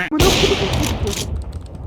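Shotgun fire in Counter-Strike 2: a loud, close blast right at the start, with a long noisy crackle and rumble trailing off over the next second and a half.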